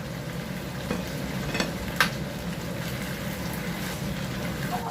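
Chicken in hoisin sauce stir-fries with spring onion in a pan, giving a low, steady bubbling sizzle with a few brief scraping clinks of a utensil and no voices.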